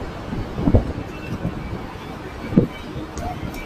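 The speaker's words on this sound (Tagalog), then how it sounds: "Lakas ng hangin." Strong wind buffets the microphone outdoors, a steady rough rumble with a few louder gusts and thumps, and no clear talking.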